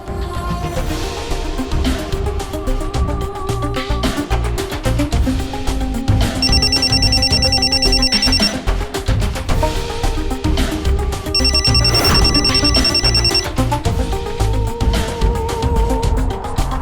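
Telephone ringing in a crime drama scene, loud repeated electronic rings in regular bursts over background music, with no speech.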